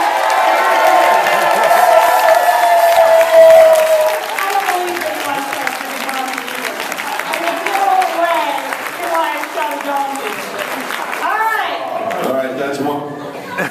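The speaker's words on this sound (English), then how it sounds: "they're going to give me a big round of applause" Audience applauds and cheers following a talk on commitment at a millionaire summit, loud crowd clapping with voices mixed in, gradually thinning toward the end as chatter rises.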